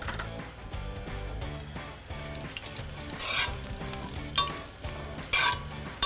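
Baby carrots frying in a pan of refined olive oil on a Weber charcoal grill, with a steady close sizzle and crackle joined by clinks of a utensil stirring, no talk over it.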